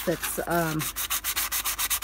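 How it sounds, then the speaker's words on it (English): A cardboard box is hand-sanded to scuff off its gloss, with rapid, rhythmic raspy strokes close to the listener. A short stretch of speech comes at the start. "I'm going to go ahead and sand the box that they came in so that possibly I can reuse that"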